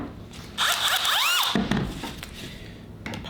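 A power drill spins up in a woodworking shop, whirring with rising and falling pitch for about a second before stopping. Clunks and handling knocks follow nearby.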